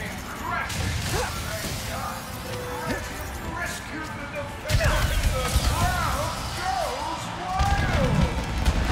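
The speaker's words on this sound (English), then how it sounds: "That night, Clank's ship came crashing." Spaceship crash in the video game Ratchet & Clank: Rift Apart, with busy game audio of whooshing, rumbling impacts and a louder crashing burst about halfway through, under dense overlapping effects.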